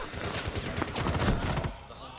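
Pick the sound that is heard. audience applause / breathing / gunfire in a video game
gunfire in a video game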